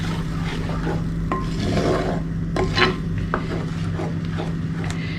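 Coconut paste sautéed over a medium flame makes a soft, constant sizzle with repeated scraping and rasping strokes of a spatula against the pan, close up and without talk.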